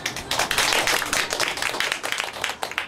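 Audience applause at a new-book launch forum in a bookshop, a dense burst of many hands clapping close and loud, holding steady for a few seconds before tapering.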